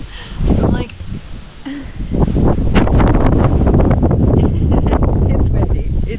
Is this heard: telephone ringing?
no